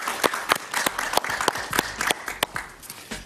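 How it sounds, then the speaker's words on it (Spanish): Studio audience applauding on a Spanish-language talk show, a short burst of brisk, close clapping with distinct sharp claps, loud and alone without speech. "Un aplauso para él."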